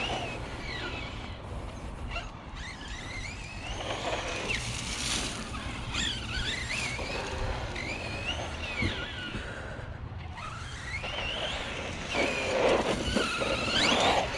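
A Force RC Epidemic 6S RC truck bashing around a park: a steady whining electric motor revving up and down with tyre scrub and rough-ground noise over about fifteen seconds.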